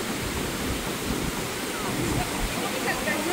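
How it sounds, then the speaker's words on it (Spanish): Waterfall at Huautla de Jiménez, Mexico, a steady, loud broadband rush of falling water filling the whole stretch without pause, with no voices heard over it. "Cascada tan impresionante y hermosa."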